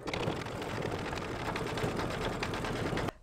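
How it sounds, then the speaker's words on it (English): An embroidery machine stitches a small beak in yellow rayon thread on an in-the-hoop mug rug, a steady rapid mechanical whirring and needle patter, close and continuous before stopping abruptly. "now I'm stitching the beak in just a yellow rayon thread"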